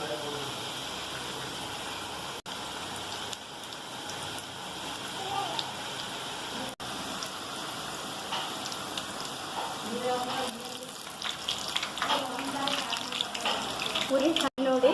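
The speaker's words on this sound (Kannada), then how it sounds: "ಕಾದಿರುವ ಎಣ್ಣೆಯಲ್ಲಿ ಒಂದೊಂದಾಗಿ ನಾವು ಈ ಥರ ಹಾಕಬೇಕು." Pieces of champakali sweet dough are dropped one by one into hot oil over a medium gas flame. The oil gives a steady crackling sizzle that swells toward the end, heard close up.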